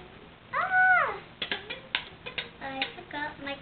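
A cat lets out one clear, drawn-out meow near the start, followed by a run of light clicks and taps close by.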